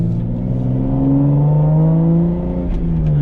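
Toyota Supra with a manual swap pulling after a gear change, a steady loud engine drone rising in pitch through a continuous revving climb, heard from inside the car with no talking.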